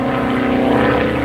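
Small dual-engine propeller airplane droning overhead near an airport, a loud, steady buzzing hum with a throbbing engine tone that holds constant through the whole short stretch, no speech.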